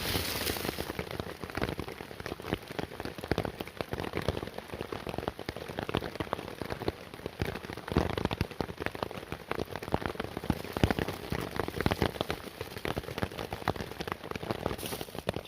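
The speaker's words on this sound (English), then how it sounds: "It's raining, and I don't know why." Steady rain patters on a taut tarp overhead, a dense, even drumming of drops that continues without a break.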